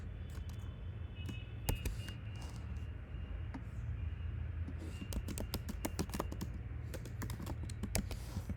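Someone types Python code on a computer keyboard, close and soft, with uneven runs of rapid key clicks and brief pauses over a faint background hum, with no talking.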